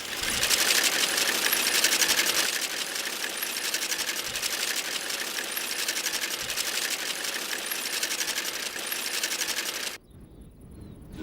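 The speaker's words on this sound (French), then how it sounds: "Et on les coupe à la machine." A machine cuts lavender stems in a field with a fast, steady mechanical clatter and chatter, loud and continuous for about ten seconds before stopping abruptly.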